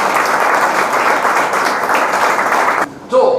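Loud, dense clapping from a small audience welcoming an interview guest, steady and close for about three seconds before cutting off abruptly, followed by a brief voice.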